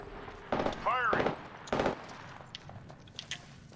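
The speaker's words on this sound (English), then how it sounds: "Contact. Firing." Gunfire in the video game Apex Legends: three short, sharp automatic bursts in close succession, loud and near, with a brief warbling electronic chirp among them and quieter game sounds trailing afterward.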